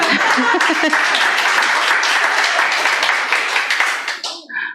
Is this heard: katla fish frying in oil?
no